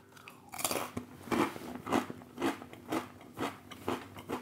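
Close crunching of Walkers Max Strong Hot Sauce Blaze crisps as someone chews steadily, with about nine sharp crunchy bites in a regular rhythm and no talking.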